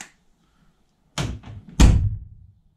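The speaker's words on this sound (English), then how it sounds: "already when I shut the doors, it just sounds so much more solid" Two Classic Mini doors, fitted with sound deadening, shut one after another, each a solid, heavy thunk, the second louder and deeper, close by in an otherwise quiet space.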